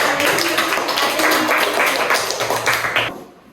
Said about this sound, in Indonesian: Coba beri aplaus untuk teman kita